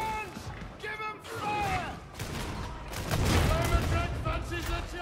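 Combat shotgun blasts in Warhammer 40K Darktide, loud repeated booming shots mixed with chaotic fight noise and ringing tones, heavier toward the end, with voices in the background.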